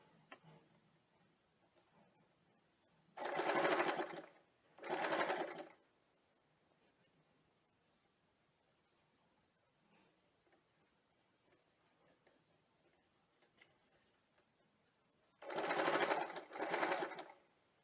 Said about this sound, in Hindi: रॉन्ग साइड में इस फोल्ड को और शेप को मेंटेन करते हुए स्टिच करेंगे